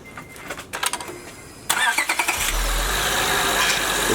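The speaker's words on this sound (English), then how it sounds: "start the engine" A 2004 Acura TL engine cranks briefly, then catches and settles into a steady mid-pitched idle after a power steering pump replacement, close and loud with no talk.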